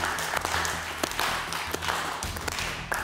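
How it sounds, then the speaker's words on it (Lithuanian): Studio audience clapping at a televised lottery draw, a steady light patter of hands with sharper individual claps, moderate in level and running continuously. "Mes po truputį plojam ir ridenam."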